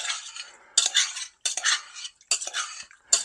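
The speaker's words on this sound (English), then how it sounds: "Stir that around with the butter." A utensil scrapes and clinks against a pan while steak is stirred with butter, coming in four or five short close strokes separated by brief pauses, with no one talking.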